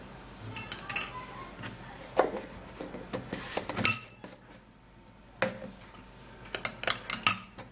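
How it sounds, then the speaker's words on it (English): A metal spoon clinks and taps against a bowl while Fuller's Earth clay powder is added, a series of sharp, close, irregular knocks and scrapes separated by short quiet gaps, with no voices. "I'm gonna be putting in 1 teaspoon of Fuller's Earth Clay powder"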